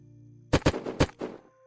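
Gunfire in the survival video game Unturned: a quick burst of about five sharp, loud shots, the first two close together and the rest more spaced, breaking a near-silent background.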